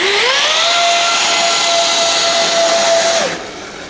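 An RC Gulfstream G650 model jet with electric ducted fan power and new exhaust nozzles spools up to full power, a loud, close whine rising in pitch over a rushing hiss, holding steady, then cutting back sharply near the end.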